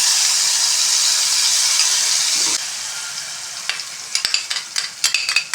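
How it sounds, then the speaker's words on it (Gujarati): Spice mix poured slowly into hot oil already tempered with mustard seeds, cumin and asafoetida: a loud steady sizzle that drops, then crackles and pops in quick bursts alongside spoon scrapes against the pan. "આપણે તરત મસાલો છે એ ધીમે ધીમે તેલમાં ઉમેરી દઈશું"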